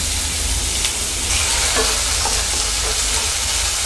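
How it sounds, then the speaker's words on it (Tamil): Spinach and soaked chana dal being sautéed in a pan for Tamil keerai kootu: a steady close sizzle runs throughout with scraping stir strokes and occasional clinks, no talking. "இதை வந்து நல்லா வதக்கிக்கோங்க"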